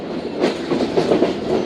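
A Zakariya Express passenger train runs on the main line in Pakistan, a loud, close rumble with rhythmic clickety-clack of wheels over rail joints, continuing without speech.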